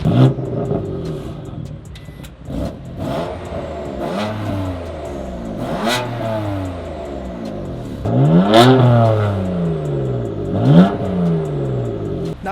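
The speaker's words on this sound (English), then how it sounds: "I want to give it a few revs" A 2015 BMW M4 engine with a modified exhaust revs repeatedly, each blip rising and falling sharply, loud and close, with idle rumble between the revs.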